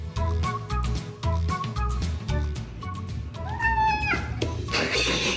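A cat meows several times in short calls, then gives a longer rising yowl, close and fairly loud over a busy background of music or noise.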